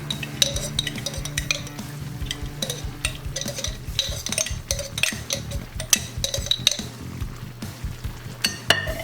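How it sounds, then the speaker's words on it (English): A utensil stirs hoisin sauce through shrimp and green beans in a pan, with rapid repeated scraping and clinking against the metal and a faint sizzle underneath. "Give this a stir."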